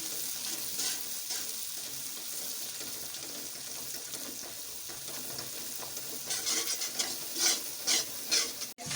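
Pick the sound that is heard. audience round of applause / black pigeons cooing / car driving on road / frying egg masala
frying egg masala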